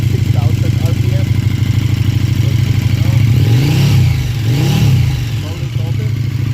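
A KTM 1290 motorcycle fitted with an ESE-KT3 on its stock exhaust idles with a deep, steady throb, then revs twice to about 5,000 RPM in quick rising and falling swells before settling back, loud and close.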